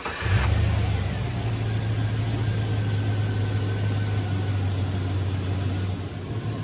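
A 2002 Chevrolet Silverado 5.3L V8 idling steadily after a water pump replacement, with a brief start-up burst followed by a smooth, even low hum that stays constant and fairly close throughout.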